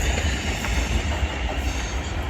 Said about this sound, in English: we have a fast train coming through by the looks of things